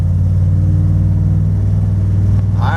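A Dodge 440 engine at part throttle droning steadily with a loud low hum, its pitch dropping as the transmission shifts from first to second gear, the engine note then settling again.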